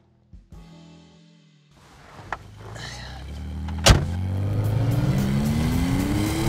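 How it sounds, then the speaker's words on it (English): A 1973 Porsche Carrera 2.7 RS engine starts quiet, then revs up with a sharp bang and climbs to a loud, sustained rising roar that holds steady to the end. "Probably one of the most delicious sounds you're ever going to hear out of a car."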